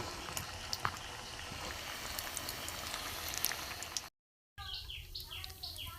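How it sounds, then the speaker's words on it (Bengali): Gokul pitha frying in oil in a pan over a low gas flame, a steady bubbling sizzle that runs continuously, briefly cuts out, then resumes with light crackles. "গ্যাস কমিয়ে কমিয়ে ভাজতে হবে"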